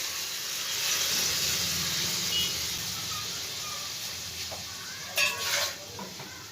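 Boiled chana dal goes into a hot pan with potatoes and is fried and stirred, giving a steady soft sizzle with the scrape of a spoon and a couple of brief clinks near the end.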